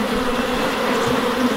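Angry honeybees swarm around a hive, a close, dense and continuous buzzing drone that holds steady throughout the brief moment.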